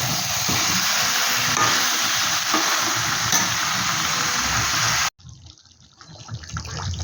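Fennel chicken cooks in a pan with a loud, steady sizzling hiss for about five seconds, then cuts off abruptly to a faint, quieter simmer as the pan is covered.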